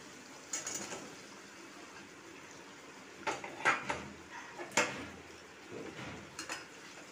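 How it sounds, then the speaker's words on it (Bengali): Fried vegetables are tipped into spices in a pan, bringing a few clinks and scrapes of a utensil against the metal over a quiet background, grouped into short clusters. "এবার এতে আমি যে আনাজগুলো ভেজে রেখেছি সেইগুলো দিয়ে দেব।"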